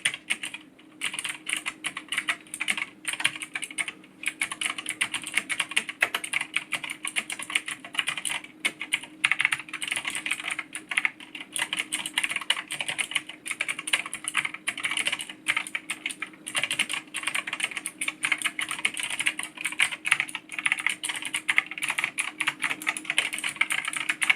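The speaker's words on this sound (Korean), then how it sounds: "자, 그러면 타건 테스트를 해볼게요" Steady, rapid typing on a Logitech G Pro X mechanical keyboard with tactile switches, crisp clacky keystrokes in a continuous flow, close and moderately quiet, with no talking.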